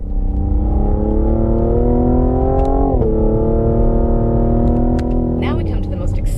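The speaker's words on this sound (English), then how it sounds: "it is the exhaust note that you want to hear" Exhaust note of a 2020 Cadillac CT5-V while driving: a steady, droning engine tone cruising inside the cabin, rising slightly in pitch, with a brief shift around the middle and another near the end, with speech faintly present.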